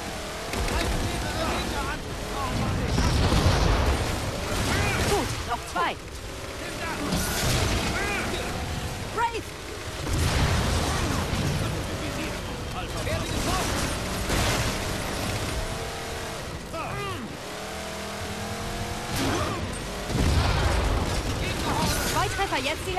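A vehicle driving through Halo's Reclaimer mission: a continuous engine drone with rising and falling whine, thumps and clanks over the whole stretch.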